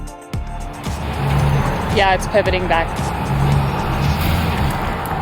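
A truck engine runs steadily while the vehicle pulls a shipping container from its bottom front corner. The engine noise holds for the whole stretch, with a short scraping squeal partway through and people talking over it.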